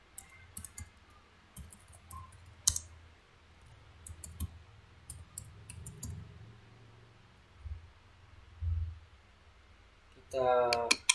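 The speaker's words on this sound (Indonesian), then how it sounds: "Kita ketik dulu" Typing on a computer keyboard in MS Word comes through as quiet, scattered key clicks, sometimes in small clusters and sometimes singly, over a low room hum, with a brief voice sound at the end.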